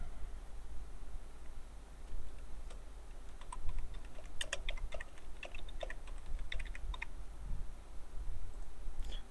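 Someone types on a computer keyboard in irregular bursts of quick, light key clicks, fairly close against a low background hum.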